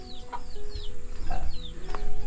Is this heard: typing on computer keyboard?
no